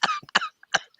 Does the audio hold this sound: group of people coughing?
yes